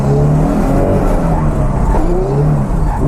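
Drift car at full throttle in a professional drift competition at Teesside, engine roaring loud and continuous with uneven, stuttering power as it cuts out, tires squealing underneath.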